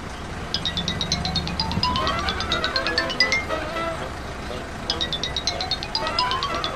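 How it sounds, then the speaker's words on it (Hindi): A melodic electronic mobile phone ringtone repeats in quick bright notes, pausing briefly before starting again, over steady background traffic noise. "सर आपका फोन बज रहा है, या तो इसे उठा लीजिए या फिर साइलेंट कर दीजिए।"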